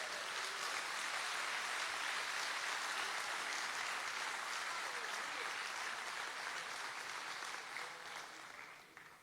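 A church congregation applauds during a sermon, a dense steady clapping that holds evenly, then thins and fades away at the end.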